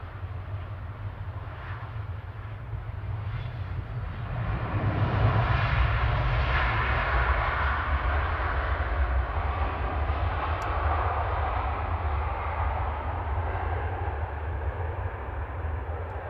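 A Qatar Airways Boeing 787 arriving from Doha at Manchester Airport makes a steady broad jet roar that swells gradually near the middle and then holds, with no talk over it.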